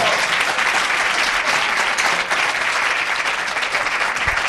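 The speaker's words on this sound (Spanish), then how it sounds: "Fuertes aplausos para B Vocal" A studio audience gives loud, sustained applause for the vocal group B Vocal at a live radio programme presentation, dense even clapping filling the whole stretch without a break.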